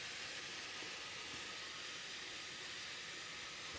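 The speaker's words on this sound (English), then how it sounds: "So that's sizzling lovely." Strips of cornflour-coated beef for Chinese-style crispy beef sizzle in a hot pan, a steady, dense, loud hiss that carries on unbroken with no voices.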